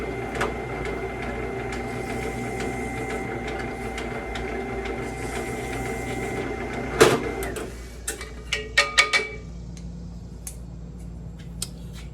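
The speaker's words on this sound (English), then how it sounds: "now I'm going to go ahead and cut a chamfer for the lanyard hole." A machine cuts a chamfer into a knife's lanyard hole, a steady mechanical whir with tonal hum running for about seven seconds, then stopping with a few sharp clicks and knocks as it winds down.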